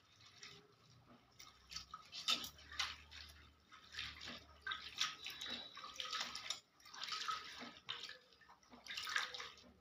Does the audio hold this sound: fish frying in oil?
no